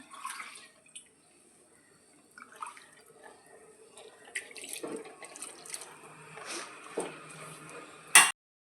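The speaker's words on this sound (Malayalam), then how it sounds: "കുറച്ച് വെള്ളം ഒഴിച്ചു കൊടുക്കണം" Water splashes and trickles into a cooking pot of mashed purple yam in uneven bursts, with a few small clinks and quiet gaps between pours.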